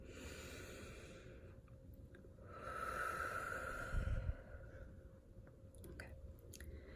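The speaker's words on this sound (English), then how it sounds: "can take a deep breath with me" A slow, deep breath taken close to the microphone in a quiet, intimate setting, a soft airy inhale swelling into a fuller rush and then easing away, with faint mouth sounds around it.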